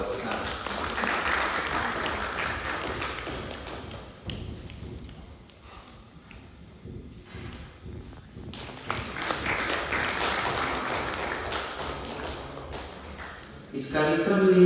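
Clapping from a seminar audience comes in uneven waves, loud at first, thinning to scattered claps and near quiet in the middle, then rising again into a fuller round before ending on a sharp burst.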